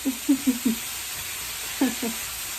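Onions stirred in a hot pan for hibachi at home, giving a steady broad sizzle with several soft scraping pulses from the stirring, grouped early and again near the end.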